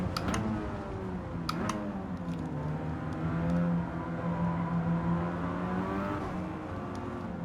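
A front-engine, front-wheel-drive car in Gran Turismo 7 revs high, its engine note climbing and dipping in smooth sweeps with a few sharp ticks, loud and alone.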